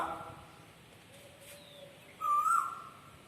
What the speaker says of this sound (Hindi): पक्षियों की आवाज आ रही है